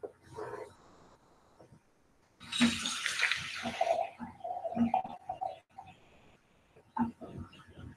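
Water runs from a tap into a container while measuring out water for heating, a loud rushing burst in the middle with quieter splashes and trickles around it.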